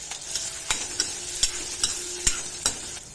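Onions, curry leaves and green chilli pieces are stirred in hot oil in a kadai. A spoon scrapes the pan in a steady rhythm of about eight strokes over a soft continuous sizzle, with no voices.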